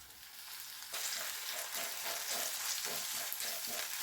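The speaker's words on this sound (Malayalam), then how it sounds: "ഇനി കറിവേപ്പില ചേർത്ത് കൊടുക്കാം കറിവേപ്പില ചേർത്തതിന് ശേഷം ഒന്ന് ഇളക്കി കൊടുക്കാം" Curry leaves hit hot oil for a pearl spot fish curry and burst into a loud, dense crackling sizzle that jumps up about a second in and keeps hissing as they are stirred, no talking.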